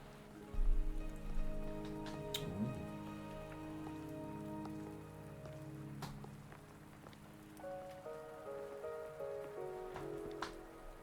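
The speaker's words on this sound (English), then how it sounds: "Are you trapped here by the rain?" Rain falls steadily in the video game Wuthering Waves, a soft continuous patter heard under sustained musical tones, with a few brighter drop-like ticks scattered through it and no talking.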